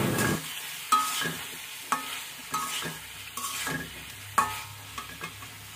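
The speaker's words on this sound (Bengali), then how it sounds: "এখন আমি আরেকটু নেড়ে দিলাম যেন নিচ দিয়ে না লাগে, ভালো করে নেড়ে ছেড়ে নিচ্ছি।" Egg masala with chopped tomato sizzles and fries in a pan while a spoon scrapes and stirs it in a steady rhythm of sharp strokes, close and moderately loud.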